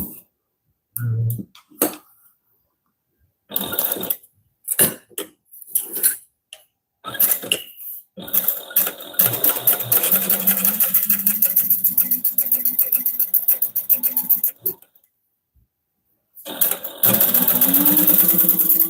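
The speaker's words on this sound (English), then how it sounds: "so I'm just going to sew the strap first" A sewing machine stitches a bag strap in bursts, with short runs early on and then a long steady stretch of whirring mechanical rattle, fairly close and alone with no talk.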